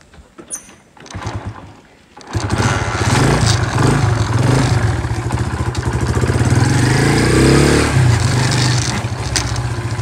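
A motorcycle being ridden out toward a bypass bridge near Tando Allahyar at sunrise; after a brief quiet start the engine starts up and runs steadily and loudly, a continuous close drone with some rattle, without talk.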